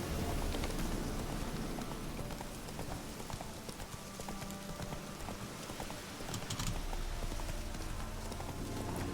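Roach, the horse in The Witcher 3, gallops in a fast continuous clip-clop of hooves, loud and close, over a rain-like wash of ambient game sound with no talking.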